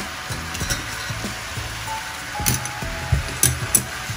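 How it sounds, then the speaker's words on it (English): Paneer Maggi noodles being stirred in a hot pan, with a steady sizzle of frying beneath scraping and clacking strokes of the spoon that grow louder and more frequent toward the end. "now just give it a good mix for a minute."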